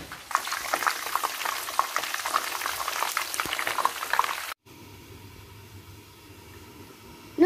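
Coconut water boiling in a pan with fish for a fermented fish-sauce hot pot, a dense crackling bubble and sizzle, then a quieter, softer simmer after a brief break, with no talk.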